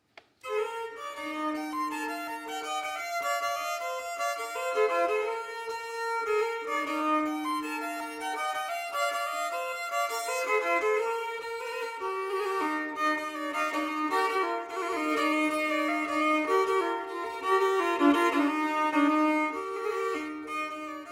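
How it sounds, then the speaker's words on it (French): A Hardanger fiddle plays a lively, ringing folk melody alone, its bright tone shimmering with resonant overtones, steady and moderately loud. "c'est le son d'un instrument qu'on appelle le Hardingfell ou violon Hardanger"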